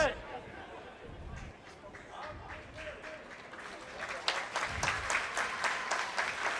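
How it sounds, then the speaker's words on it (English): A crowd claps for an American football player walking off to the sideline at the Britbowl final, a scattered, moderate applause that builds toward the end beneath steady commentary talk. "you can see Tom Levitt being applauded as he comes off to the sideline"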